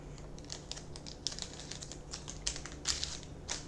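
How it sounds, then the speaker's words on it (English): Protective plastic film peels off a new pair of Persol 714 sunglasses with brown lenses. Close, quiet crinkles and light ticking crackles come in quick, irregular bursts. "Let's take off the plastic."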